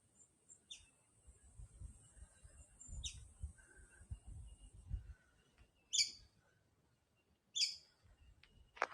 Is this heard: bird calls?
yes